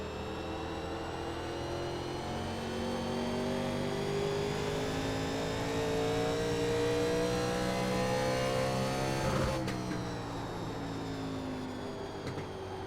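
NASCAR Legends 1987 race cars lapping the Milwaukee Mile in iRacing, a steady droning engine note with rising and falling pitch as cars run in line, moderately loud and continuous.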